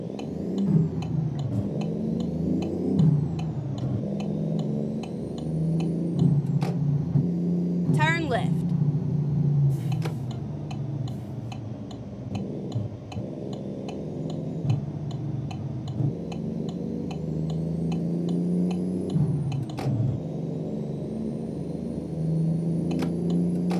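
Cummins N14 truck engine with straight pipe exhaust in American Truck Simulator, a steady low droning rumble held throughout with occasional ticking clicks and brief shifts in pitch.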